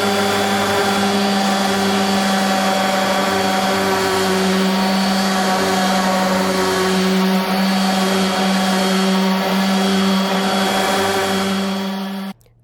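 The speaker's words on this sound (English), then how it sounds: "This sander really does make it so much easier to get this taken care of" Electric sander working over a thrifted wooden nightstand to bring out the grain, a loud, steady motor whine with a buzzing hum that runs unbroken for about twelve seconds before cutting off at the end.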